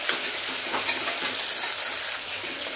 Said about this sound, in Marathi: आता हे सगळं छान एकदम भाजून घ्यायचं.